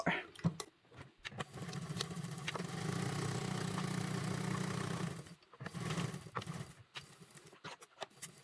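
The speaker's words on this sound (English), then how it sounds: "we're at the sewing machine" Domestic sewing machine stitching a small bag flap with a half-inch seam: a steady mid-pitched motor whir runs continuously for several seconds, with short stops and restarts at the start and near the end.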